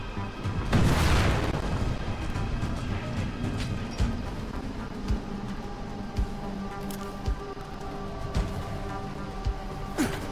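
A grenade blows up in the zombie game Dying Light with one heavy, booming blast early on, followed by a long low rumble and scattered small thuds fading into ambient game noise.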